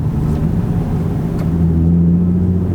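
Nissan 350Z with a Z1 Motorsports short throw shifter idling and moving from first into second gear, a steady low engine drone holding close and loud, with a faint click partway through.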